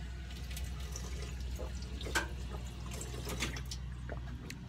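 Cold water runs from an outdoor drinking fountain along a running trail, a faint, steady splashing trickle with a few soft drips and no speech.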